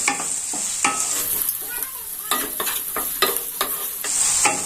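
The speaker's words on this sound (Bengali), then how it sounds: "এবার এটাকে আমি ভালো করে একটু ভেজে নেব, সামান্য লাল করে।" Prawns frying with turmeric and salt in a pan give a steady close sizzle, broken by repeated sharp scraping stirs of the spatula; no one speaks.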